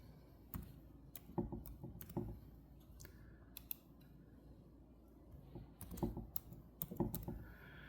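Faint, scattered keystrokes on a computer keyboard as a password is typed for a new user account in MX Linux, with irregular clicks in small bursts and quiet pauses between them; no speech.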